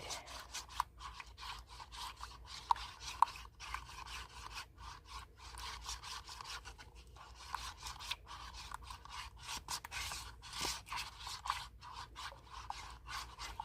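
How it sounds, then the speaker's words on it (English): Polyurethane resin is stirred in a cup, producing soft repetitive scraping strokes against the bottom and sides in a steady rhythm, quiet and close with no other sounds. "I'm stirring the bottom and making sure that you can hear"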